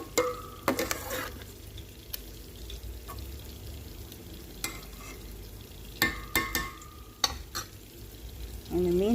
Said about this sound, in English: we're going to leave this to cook on medium heat until the tomatoes are fully cooked